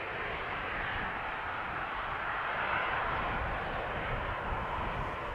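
An airliner takes off from runway 36L at Amsterdam Schiphol Airport, its steady, loud, broadband jet roar sustained throughout with no voices.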